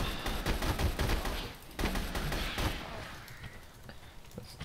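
Gunfire in the dinosaur shooter game Orion: Dino Beatdown, a quick burst of rapid shots followed by a few scattered reports, fairly faint and fading out.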